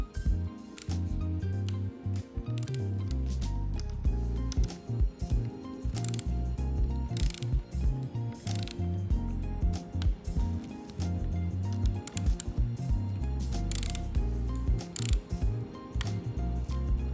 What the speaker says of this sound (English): then tighten them using your torque wrench to 6 Newton meters